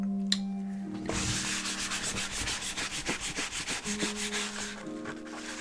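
Close, rhythmic rubbing strokes of a scraper working ink off a surface repeat quickly for about four seconds, with a faint steady hum before and after.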